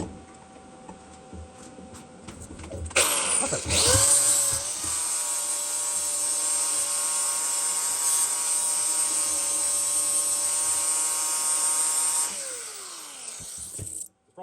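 A bench or angle grinder polishes a piece of homemade TIG filler rod, a steady high-pitched whirring grind that spins up sharply, holds loud and close for about nine seconds, then winds down.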